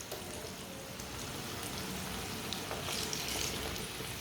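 Pakoras sizzle quietly in hot oil, a soft steady crackle and hiss with faint pops, heard close with no one talking.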